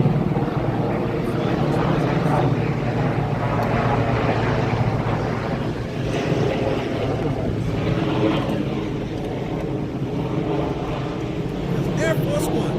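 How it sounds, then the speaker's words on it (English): A military plane passes overhead with a steady, loud engine roar that fills the whole stretch without fading, while people talk on a street below. "It's a military plane."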